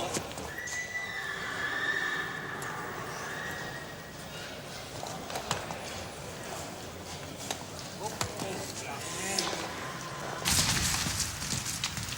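Ardennes draft horses at a young-horse show with mares and stallions, neighing and whinnying over a steady clatter of hooves clip-clopping, with a louder burst of hoof and crowd noise near the end.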